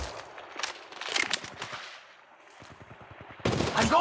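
Rapid bursts of gunfire in the mobile shooter Apex Legends Mobile, with sharp automatic volleys, a quieter patch of quick repeated shots, then a heavy loud burst at the end.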